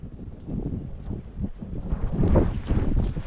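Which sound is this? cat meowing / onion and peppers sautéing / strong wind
strong wind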